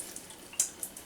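Canned clams and their packing brine are dumped through a sieve, a brief spell of close, soft trickling and splashing with a couple of sharper drip spatters.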